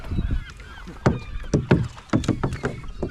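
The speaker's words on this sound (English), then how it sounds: "we're just coming up to the danger zone now, where all these gulls are feeding" Gulls call in short, scattered squawks over splashing water and a faint background hum, several birds crying close by.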